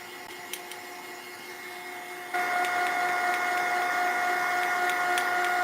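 A heat tool blowing over wet paint on a mixed-media craft page, giving a steady whirring hum with a high whine that steps up louder partway through and stays on.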